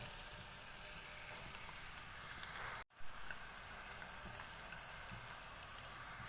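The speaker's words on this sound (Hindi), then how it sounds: "प्याज को ऑयल में फ्राई कर लेंगे।" Chopped large onion sizzling in hot oil in a frying pan, a steady close crackling hiss that runs throughout with one brief dropout near the middle.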